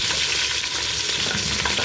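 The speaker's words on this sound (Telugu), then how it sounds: "ఇలా గ్రీన్ చిల్లీస్ బాగా వేయించుకోవాలండి" Green chillies sizzle steadily in hot oil, a close, loud, continuous crackling fry with no voices over it.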